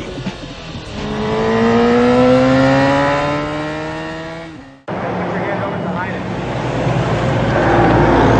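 A sport motorcycle in Repsol livery revs hard with uneven, jerky throttle. Rising and falling engine pitch holds steady loud for several seconds, then cuts sharply and resumes with rougher noise and voices.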